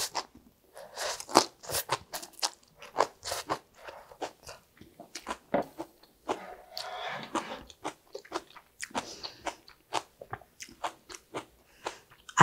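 Seasoned mung bean sprouts, neither stir-fried nor boiled, are chewed with crisp, wet crunches in a steady irregular rhythm, close and fairly quiet with no talking.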